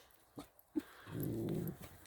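Dogs on a countryside walk near Dorchester, Dorset, give a couple of short yips followed by a low, sustained growl that fades out, close to the microphone.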